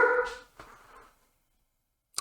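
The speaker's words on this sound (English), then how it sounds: "Sorry about my dog." A pet dog gives a loud, close bark followed by a softer second yelp, then a short sharp yip at the very end after a pause of near silence, indoors.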